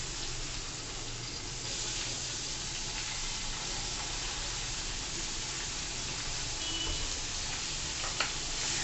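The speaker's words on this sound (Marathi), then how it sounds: "आपला कांदा चांगला परतवून होतोय." Finely chopped onion sautés in oil in a pan for dhaba-style palak paneer. A constant, fairly loud hiss and crackle continues throughout, with faint stirring and a single small clink near the end, and no talk.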